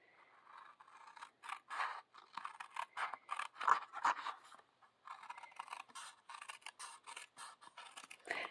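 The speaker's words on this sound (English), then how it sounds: "I'm going to cut right on that score line." Scissors cut designer series paper along a score line for a gift card holder, a quiet, close series of short crisp snips and scrapes in an uneven rhythm with brief pauses between strokes.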